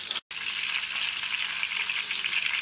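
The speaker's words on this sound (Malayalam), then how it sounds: "അത് വരെ ഒരു 10-15 മിനിറ്റ് നന്നായിട്ട് വഴറ്റി കൊടുക്കണം." Lemon pickle mixture sautéing in sesame oil in a pan, a steady close bright sizzle and crackle of frying, loud and unbroken apart from a brief cut near the start.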